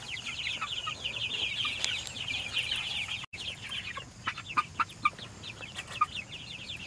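Heritage meat chickens cluck in a chorus on a homestead, many overlapping calls close by with sharper individual clucks standing out toward the end.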